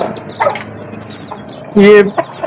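A rooster for sale at a bird market clucks and calls close by, with short scattered cries and one louder harsh squawk near the middle, over light background chatter and market noise.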